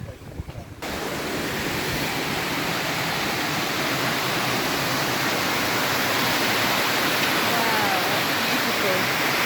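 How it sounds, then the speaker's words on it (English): A strong river rushes close by near Glencar waterfall in Sligo, Ireland, with a steady, loud broadband roar of churning water that runs unbroken after a brief rustle at the start. "we're making our way along this little river"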